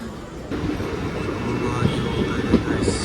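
Low rumbling idle of a stationary train waiting for a signal, with a constant hum and occasional clanks, mixed with faint background chatter.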